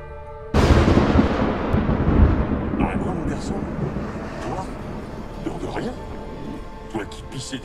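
Thunder in the video game The Witcher 3: a sudden loud crack followed by a long rolling rumble that slowly fades, with voices underneath.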